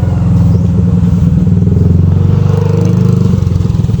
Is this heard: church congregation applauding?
no